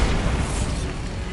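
A Bombarda blasting spell explodes in Hogwarts Legacy, a loud, dense boom with crackling debris filling the whole moment without a break.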